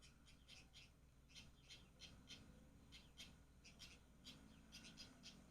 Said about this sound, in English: here's a recording of the fulvous babbler